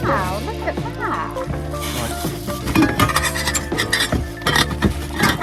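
Budget camping pots and their lids being lifted and set against one another, light metallic clinks and rattles close by under steady chatter from a woman.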